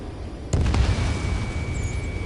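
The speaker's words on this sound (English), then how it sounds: "Our artillery fire just missed us off our starboard side" A deep explosion from artillery fire booms in the Ace Combat 7 video game, a single burst that rolls on as a low rumble.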